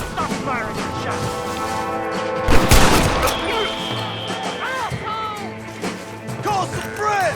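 Gunshots ring out in a Red Dead Redemption gunfight, with one sharp, loud crash-like shot standing out above a background of music and scattered lighter impacts.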